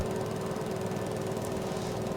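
A mower cutting a field on the Fichthal map in Farming Simulator 22 drones with a constant, loud, rough engine hum and rattling blades, steady throughout with no pauses.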